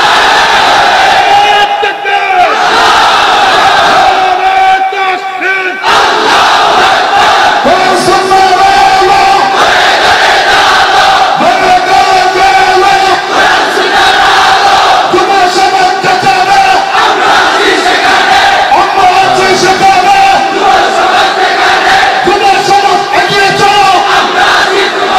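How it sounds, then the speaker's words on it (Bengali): A large crowd at a Bengali Islamic sermon gathering shouts a takbir together, a loud, sustained mass of voices filling the space and holding steady for the whole stretch. "জিব্বা খুলে কণ্ঠ আওয়াজ করে একটা তাকবীর দাও"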